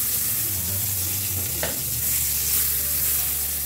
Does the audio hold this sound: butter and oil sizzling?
yes